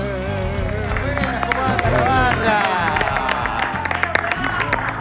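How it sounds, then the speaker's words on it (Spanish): A television studio audience claps loudly and steadily as a guest enters a bar-themed debate program, with crowd babble and scattered cheers mixed in. Musical tones play alongside the applause. "Ovacionado me siento cuando entro al programa. Y debe ser el único lugar donde llego y me aplauden"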